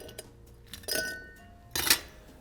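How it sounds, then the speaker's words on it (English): Ice cubes dropped into a glass while a melon-ball cocktail is being prepared, giving two bright clinking bursts close up, a lighter tap before them, and no talking. "First, we're gonna add a few ice cubes."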